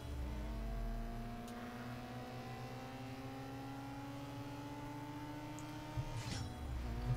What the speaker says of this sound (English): So hit the nitrous.